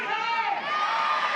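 A large, rowdy crowd at a new softball stadium cheers and shouts continuously, a dense, loud wash of voices with no pauses.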